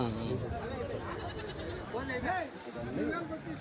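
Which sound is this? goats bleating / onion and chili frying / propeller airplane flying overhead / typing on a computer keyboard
goats bleating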